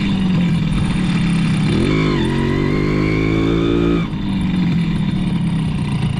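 A Simson moped engine drones loudly and steadily close by as the rider runs in second gear, its pitch rising briefly under load and then settling back to a constant hum.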